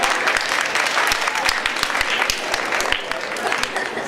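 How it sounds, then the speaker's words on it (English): Staff and students clap together at a school gathering, a dense, steady applause close by with sharp individual claps standing out, a voice briefly audible beneath. "clap it up"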